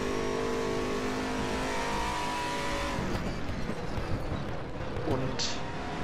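Engine of an Aquila CR1 race car in the RaceRoom racing game, a steady high droning note that shifts pitch as it revs, with a voice speaking over it throughout.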